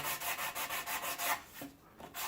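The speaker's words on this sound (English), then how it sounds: "Very little sanding required. So nice and easy. Let the sandpaper do the work." Rhythmic back-and-forth strokes of sandpaper on a wooden skateboard, about a dozen fast rasping passes close by, then a brief pause and a couple more strokes.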